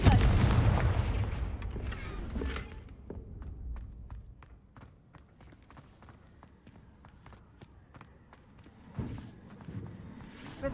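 A Confringo fire spell goes off in Hogwarts Legacy with a heavy booming blast at the start that fades into a string of faint clicks and taps, then another softer thump near the end.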